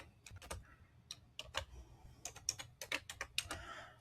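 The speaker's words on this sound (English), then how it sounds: "I'm going to type it in." A computer keyboard is typed on close by in short irregular bursts of crisp clicking keystrokes with small pauses between them, fairly quiet and with no talk.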